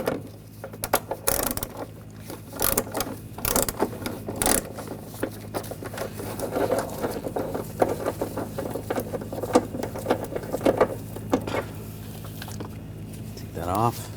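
A socket wrench ratchets on the battery hold-down nut of a 2004-2012 Chevrolet Colorado 3.7L, giving close, rapid clicking bursts with metallic knocks between them.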